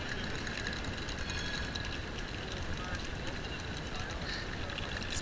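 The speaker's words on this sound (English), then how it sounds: "Here's the tram." Near Amsterdam's Central Station, a passing tram makes a steady, broadband rumble and rattle that stays loud throughout, with no clear speech in the moment.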